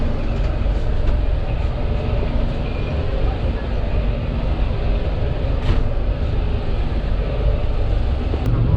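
Interior of a newly refurbished economy class coach on the Thall Express from Rawalpindi to Multan, with a steady, loud rumble of the moving train and clattering rails continuing throughout.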